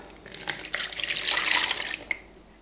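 Warm milk poured into a bowl for a cinnamon roll dough, a short splashy liquid stream that builds and fades over a couple of seconds, close and fairly clear.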